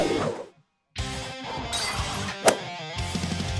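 A Lego Batman character's glass helmet shatters with a loud crash, followed by a sharp clink and a jumble of scattered fragments amid busy cartoon action sounds.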